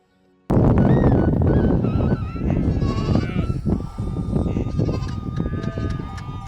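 A flock of sheep bleating together, overlapping wavering calls that start abruptly and continue loudly and nearby, with a dense chorus of many animals.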